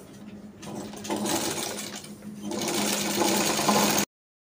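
A sewing machine, its lap stitching misaligned, runs steadily stitching a fabric edge, with a loud continuous mechanical whir and rattle up close before stopping abruptly.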